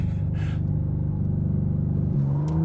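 2024 McLaren Artura launching hard under launch control, a deep engine rumble climbing steadily in pitch with a gear change near the end, close and loud from inside the car.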